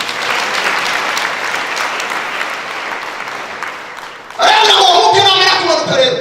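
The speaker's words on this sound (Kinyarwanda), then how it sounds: "Komera Imana amashyi mubyumvise neza." A congregation applauds during a church sermon, a dense wash of steady clapping that fades gradually before a voice breaks in near the end over the dying applause.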